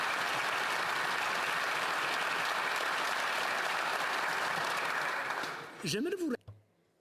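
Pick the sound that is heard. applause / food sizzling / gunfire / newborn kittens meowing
applause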